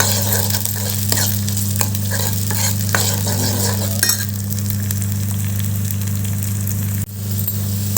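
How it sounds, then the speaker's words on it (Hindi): Green peas fry in a pan while being stirred, with a steady broadband sizzle sitting over a constant low hum, and occasional scrapes and knocks from the spoon. No one speaks. "फ्रेंड्स, मटर भी हमने थोड़ा सा फ्राई कर लिया।"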